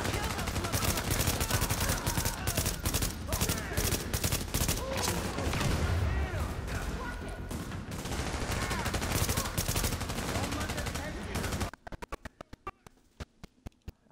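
Heavy gunfire in the video game The Division, a sustained dense barrage of overlapping shots that ends in a few sparse separate cracks, with voices faintly under it.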